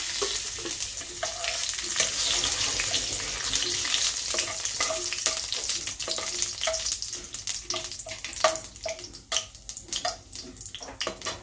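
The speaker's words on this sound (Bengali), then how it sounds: "এবারে আমি গ্যাস জ্বালিয়ে কড়া বসিয়ে তেল দিয়ে দিলাম, একটা তেজপাতা, একটা শুকনো লঙ্কা, এতে দিয়ে দিলাম গোটা জিরে।" A bay leaf, a dried red chilli and whole cumin seeds fry in hot oil in a kadai on a gas stove. The sizzle crackles continuously, with scattered sharper pops and stirring clicks that grow busier towards the end.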